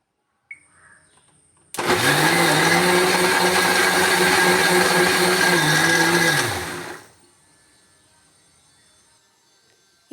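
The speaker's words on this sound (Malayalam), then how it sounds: "അല്പം വെള്ളവും ചേർത്ത് നമുക്ക് ഇത് നന്നായിട്ട് അടിച്ചെടുക്കാം" A kitchen blender purees banana with a little water in one steady, loud run of about five seconds, the motor note dipping slightly under load before cutting off, with quiet room sound before and after.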